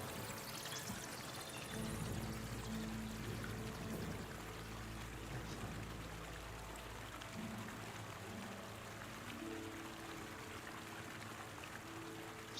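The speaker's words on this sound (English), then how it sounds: "So if you're wading through water," Continuous splashing and sloshing of water in the video game Kingdom Come: Deliverance 2, steady and fairly loud, like someone wading through shallow water, with no voices.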